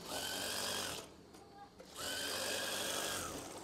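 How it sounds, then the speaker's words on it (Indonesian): A sewing machine stitches a curtain in a fast, steady whirring run. The motor pauses briefly near the middle, then starts again at the same pace, and the whole run sounds close and fairly quiet. "Jahit saja dari awal hingga akhir"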